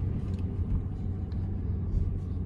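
Road traffic in Gatlinburg rolls by as a low, continuous engine rumble, steady and fairly close, with no voices.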